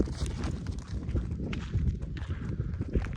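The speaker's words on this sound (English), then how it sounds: "Taking the goats for a little walk." Goats out on an evening walk, their hooves striking the ground in a steady, overlapping clatter of close footsteps, with no talking.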